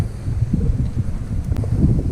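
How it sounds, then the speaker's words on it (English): Wind buffets the microphone in a steady low rumble, loud and close, with no one speaking, while fishing along the Tamiami Trail in the Everglades. "It is super windy. I hope the audio is okay"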